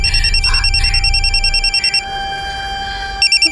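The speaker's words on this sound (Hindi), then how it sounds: "फोन की आवाज तो अंदर से आ रही है" A mobile phone rings with a repeating electronic tone, steady and fairly loud, pausing briefly before the ringtone pattern starts again.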